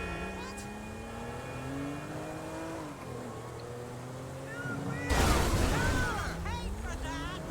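A car drives ahead on the road, a steady engine drone that rises in pitch as it accelerates, followed by a louder whooshing surge of traffic noise, heard under intermittent voices.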